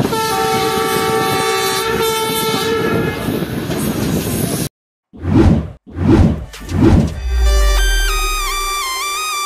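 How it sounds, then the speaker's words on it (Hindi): The Tezgam train overtaking a container train near the Malir Expressway works: a loud, continuous rush and rattle of passing wagons breaks off, then three long blasts of the horn sound close by. "एक डाउन कंटेनर ट्रेन को ओवरटेक कर रहे हैं हम यहाँ पर।"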